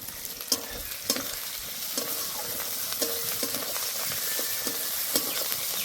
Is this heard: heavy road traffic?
no